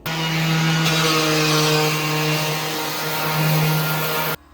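A metal steering part is sanded during suspension repair work with a power tool that gives a loud, steady motor whine and gritty grinding, holding nearly constant for about four seconds before cutting off abruptly. No one speaks.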